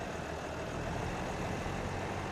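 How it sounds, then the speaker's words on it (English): A yard tractor engine idles in Farming Simulator 2017, a steady low rumble at moderate level with no change over the short stretch and no talk. "This is our yard tractor"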